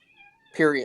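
A house cat lets out one loud, close meow with a rising then falling pitch, following a moment of faint background tones and a brief spoken word.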